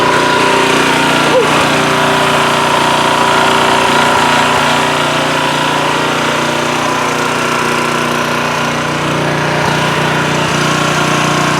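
A small gasoline engine, likely a generator, runs steadily at a loud, close, even drone with its fuel cut off, being left to starve and die; no voices over it.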